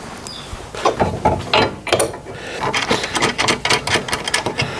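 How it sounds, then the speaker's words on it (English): A 1/2-inch socket ratchet tightens bolts on a portable band saw bench stand, producing rapid bursts of close, crisp clicking in uneven runs. "I'm going to figure out what socket goes on there. 1/2-inch socket. I don't want to tighten them down, but I'll get them snuggish."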